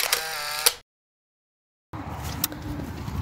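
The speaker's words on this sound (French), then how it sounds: "Je vais faire une petite photo, faut que j'ai le réflexe." Two crisp, close camera shutter clicks as a photo is taken outdoors, then a fully silent gap before faint outdoor ambience returns.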